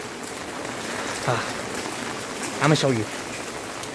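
Rainy-season rain falls on Boracay island in a steady, even hiss, with a voice speaking briefly over it.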